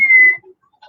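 A voice imitates a flute with a brief, steady high whistled tone, followed by a short pause and a faint second note.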